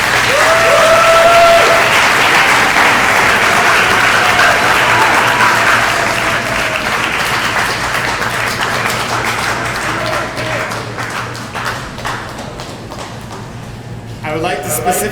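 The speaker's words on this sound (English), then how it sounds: "Graduates, please stand up and give your parents a special round of applause." Graduates at a 2016 graduation ceremony give their parents a sustained round of applause, a large crowd clapping steadily that gradually thins out, with faint voices beneath.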